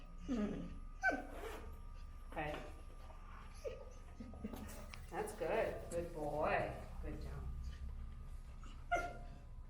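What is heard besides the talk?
anxious dog whining in a car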